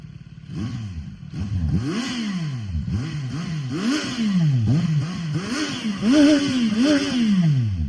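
A CFMOTO 675NK motorcycle engine revs repeatedly, its pitch rising and falling in a series of close, loud throttle blips over a steady running rumble.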